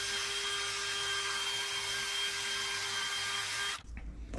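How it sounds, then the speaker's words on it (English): A buffing wheel spins steadily against a 1990s Ford LCD gauge cluster lens, a loud constant whirring hum that stops abruptly near the end. "Go ahead and hit it again with the buffing wheel."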